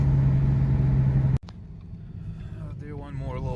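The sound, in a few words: Ford Mustang 3.7 V6 engine accelerating during a pull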